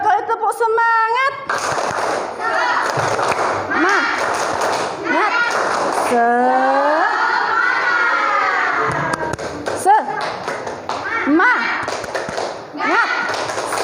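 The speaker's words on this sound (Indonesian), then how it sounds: "2 kali tepuk semangat." A group does a rhythmic spirit clap twice during an icebreaker, with bursts of patterned clapping alongside loud group shouts and cheering, plus a leader's voice speaking.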